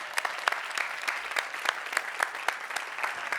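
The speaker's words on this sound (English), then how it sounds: "Round of applause." A seated audience at a talk bursts into applause, many hands clapping in a bright, crackling wash with sharper individual claps popping out, steady and moderately loud.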